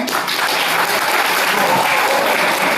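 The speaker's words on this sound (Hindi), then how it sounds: "जरा ताली हो जाकर बताएं" An audience at an All India mushaira in a library hall in Malegaon breaks into loud, sustained clapping, a dense wash of applause filling the hall without a break.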